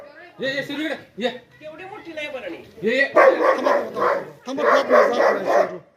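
A dog barks near people in a rural yard, with a series of loud, close barks and yips mixed in with excited talking.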